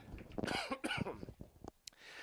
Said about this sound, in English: just trying to shake this cough